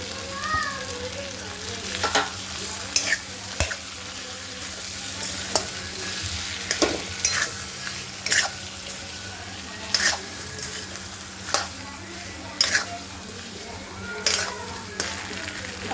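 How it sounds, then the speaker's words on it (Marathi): Stuffed brinjal with masala sizzles in a pan, a steady soft frying hiss broken by regular sharp scrapes and clicks of a spoon stirring, close and continuous without talk. "जो आपला मसाला उरला होता तो यामध्ये टाकून घ्यायचा आणि छान परतून घ्यायचा"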